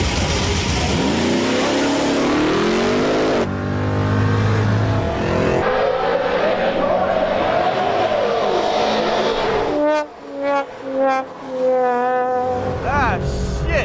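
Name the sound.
hot rod drag race car flooring it off the line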